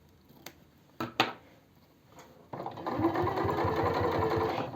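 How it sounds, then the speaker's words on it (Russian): A sewing machine stitches a seam on pyjamas: a few sharp clicks and taps first, then the motor starts and runs steadily near and loud with a rapid needle chatter until the end. "Можно еще раз дать строчку, только более мелкую."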